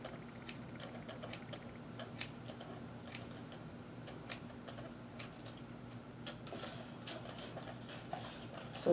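Hair shears trimming a synthetic wig, a run of quick, crisp snips at irregular intervals, close and fairly quiet over a low steady hum, with no talk.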